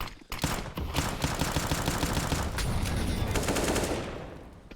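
Counter-Strike match gunfire, scout rifle shots among bursts of automatic fire, sustained and dense for several seconds before tapering off, close and loud.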